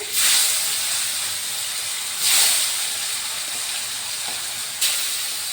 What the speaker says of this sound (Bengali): আমি এখন মাছগুলোকে ছেড়ে দিচ্ছি কড়াইতে।